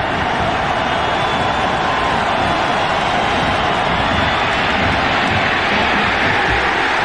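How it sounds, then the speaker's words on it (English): A large college football stadium crowd roars during a 2001 South Carolina versus Alabama game, a dense, loud, continuous wash of cheering with no break. "Listen to this crowd."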